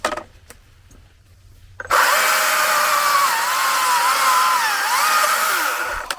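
A Stihl 220 TC battery top-handle chainsaw bites into wood after a quiet start, a loud, sustained whining cut with shifting pitch as the chain throws chips, running steadily for several seconds.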